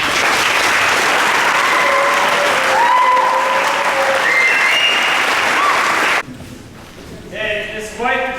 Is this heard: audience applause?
yes